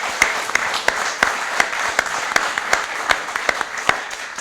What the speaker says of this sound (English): a very warm round of applause to everyone